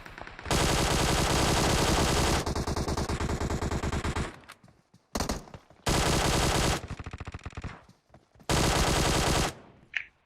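Automatic weapon fire in the PUBG Mobile shooter game, loud sustained bursts of rapid shots, several seconds each, separated by brief pauses and short single volleys.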